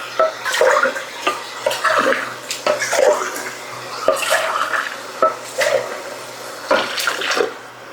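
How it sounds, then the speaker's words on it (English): Tomato sauce, diced tomatoes and water are poured from cans into a skillet in a home kitchen, with repeated splashing glugs and clinks of cans against the pan in short bursts. "One can of tomato sauce, 1 can of diced tomatoes, and 1 can of water."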